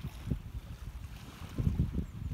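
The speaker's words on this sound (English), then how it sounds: "Sorry if there's wind." Wind buffeting the microphone on the Oglet shore near Liverpool at low tide, a low, gusty rumble in uneven bursts that grows stronger toward the end, no voices.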